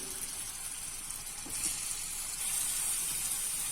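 Steady, dense sizzling of marinated chicken frying in hot oil, a continuous close hiss that swells slightly louder toward the end.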